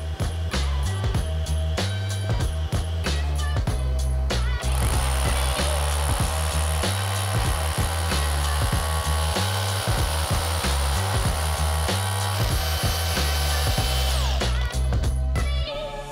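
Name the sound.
cordless hammer drill drilling into wall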